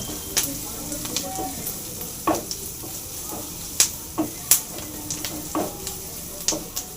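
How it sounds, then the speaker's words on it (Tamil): Cashews roast in a pan with a soft, continuous sizzle, broken by sharp scraping clicks of a spoon against the pan at irregular intervals, heard up close. "முந்திரி போட்டு நல்லா ஒரு கலர் கழிக்குங்க"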